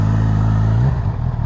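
A Honda CB1000R+ 2019 motorcycle with an Akrapovic exhaust revs up close, its loud engine tone climbing, then drops off with a clattery rumble as it pulls away. No one speaks.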